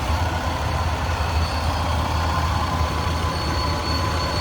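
A 2001 Saturn L300 car engine runs with a steady, low hum at moderate volume, a faint rattle on top and no speech.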